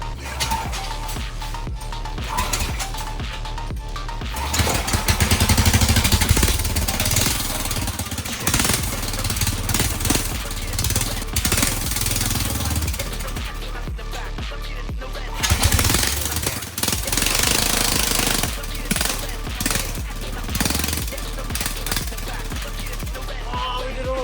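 A stretched mini bike's small engine runs hard during a burnout, a loud, continuous buzzing rattle with rising revving surges around five and fifteen seconds.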